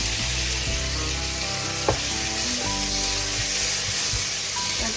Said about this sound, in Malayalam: ഇനി നമുക്കിതിലേക്ക് തക്കാളി ഇട്ട് കൊടുക്കാം.